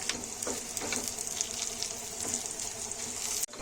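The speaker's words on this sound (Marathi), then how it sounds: "ही जी बेडकी मिरची आहे आणि कलर जो आहे खूप छान येतो तिला आपण चांगलं भाजून घेऊया" Bedki chillies roast in a pan for groundnut chutney, giving a soft, constant sizzle and crackle with scattered small pops and a scrape of stirring, close by, before a brief abrupt dropout near the end.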